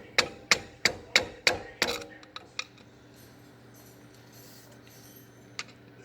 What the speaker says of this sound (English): I'm tapping the other end of this with a hammer